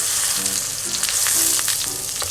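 A fried tofu pouch stuffed with egg and cheese sizzles steadily in a frying pan, a loud, close crackle that runs unbroken throughout, with faint tonal hums now and then and no voices.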